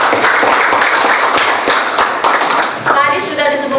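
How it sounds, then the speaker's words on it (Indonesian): Students in a classroom clap for a classmate during an Indonesian-language lesson, a loud, brisk round of hand claps lasting a few seconds before a teacher's voice begins speaking near the end. "Tepuk tangan dulu untuk Firman."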